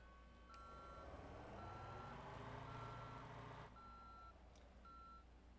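Garbage truck in the Motor Town driving game backing up, with a steady run of evenly spaced electronic reversing beeps over a continuous engine rumble that swells and then eases.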